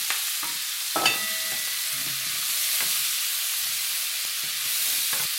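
Potatoes fry in a pan for a steak stir fry, giving a steady close sizzle with a few clinks and scrapes as they are stirred.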